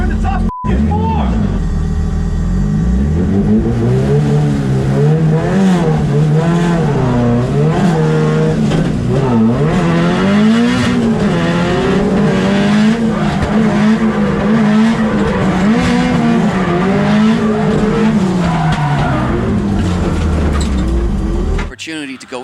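Drift cars at the Irish Drift Series round at Mondello Park, engines roaring and revving with sustained tire screech through a long continuous run, loud and close, with excited commentary talking over it throughout.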